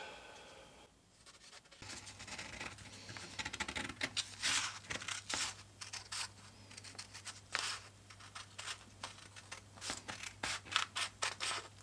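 Scissors cutting out a paper template for a leather knife sheath, a quick series of close snips and rustles with a low steady hum behind, no talking.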